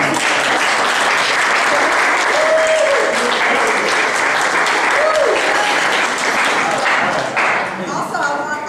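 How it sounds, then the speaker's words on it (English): At a National Honor Society ceremony, an audience gives loud, sustained applause, a thick roar of many hands clapping at once, with faint voices mixed in. "let us give you a round of applause"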